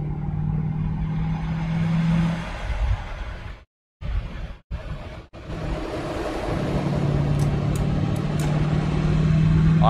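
A Mercedes S-Class in Euro Truck Simulator 2 cruises with a steady engine and road drone. The sound cuts out briefly near the middle, then a low engine tone returns and holds to the end.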